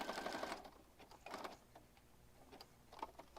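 A sewing machine stitching pockets for an oversized eclectic junk journal, short quiet whirring bursts of rapid stitches with pauses between them.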